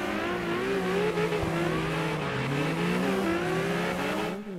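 A rotary engine drift car in CarX Drift Racing revs with a buzzy, high-pitched whine that holds steady and wavers, with faint tire squeal, loud and without pause throughout.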